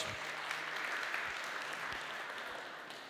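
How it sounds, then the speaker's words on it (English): An audience at a startup pitch event applauds a jury member, a dense, moderately distant wash of clapping that holds steady and tapers slightly at the end. "Give her a big applause."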